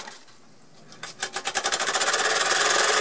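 A 1906 Fritz Neumeier steam engine, freshly repaired, starts up and settles into a fast, even chuffing rhythm that speeds up and grows louder, heard close and alone.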